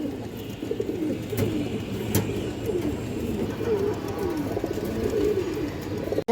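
Kaldom and Indian high flyer pigeons coo repeatedly in soft, rolling phrases over a steady low background hum, with a couple of sharp clicks and no talking.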